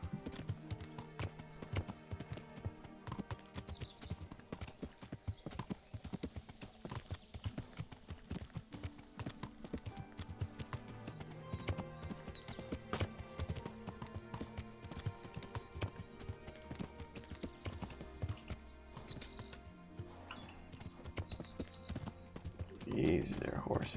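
Horse hooves clip-clopping in the medieval game Kingdom Come Deliverance, a steady rhythmic trot with occasional snorts, mixed under background music and game ambience, growing louder near the end.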